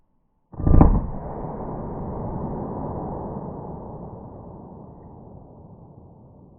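A single .45 ACP pistol shot with Hornady Critical Duty ammunition, fired into an MDF block, gives one sharp loud crack followed by a long, fading rumbling echo, with no talking.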